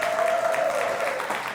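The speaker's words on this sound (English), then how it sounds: "Round of applause." A crowd gives a short round of applause for two guests at a talk event, a soft, fairly even patter of clapping with a brief sustained vocal tone audible over it.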